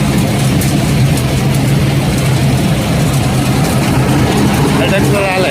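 A tractor engine runs during groundnut harvesting, spreading dust through the field, producing a loud, steady, unbroken low drone that holds at the same level throughout.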